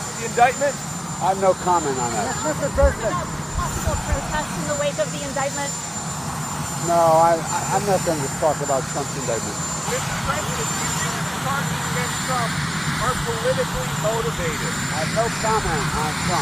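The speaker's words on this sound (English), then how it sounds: "You can hear the noise of Marine One, the presidential helicopter, in the background." Marine One, the presidential helicopter, sits on the White House south lawn, its steady rotor and engine roar rumbling in the background beneath reporters shouting questions and the president's replies.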